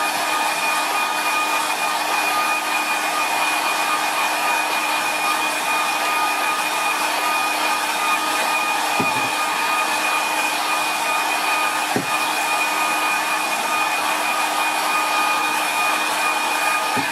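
A hair dryer blows steadily and loudly over a watercolour painting, a constant whirring roar lasting the whole stretch with only small bumps as it is moved, no talking.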